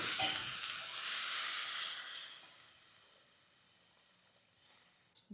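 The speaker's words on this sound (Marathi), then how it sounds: "आता यामध्ये घालायचे एक लिटर दूध" A litre of milk poured into a pan of ghee-roasted fox nuts hisses and sizzles loudly at first, then settles into a quieter, steady simmer close by, with no one talking.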